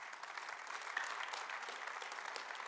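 A church congregation claps during a sermon, faint and distant, a soft continuous patter of many hands lasting a few seconds.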